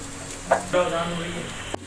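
Chopped onions hitting hot oil in a pan, raising a soft, steady sizzle with a brief louder burst as they go in; a short clatter comes near the end.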